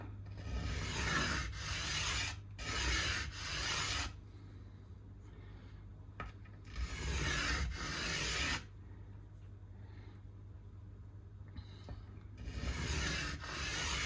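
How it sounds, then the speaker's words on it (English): Slow, repeated rasping strokes scrape a Yamaha Pacifica electric guitar part down to size, loud bursts of several seconds each separated by quieter pauses with a low hum underneath; no one speaks. "start with a little bit of a scrape to get it down to size."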